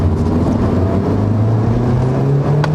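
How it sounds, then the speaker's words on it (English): The turbocharged four-cylinder engine of a 2018 Honda Civic Type R drones loudly and steadily under acceleration, its pitch climbing slowly, with wind and road noise around it. "This is a 4-cylinder turbocharged engine, by the way"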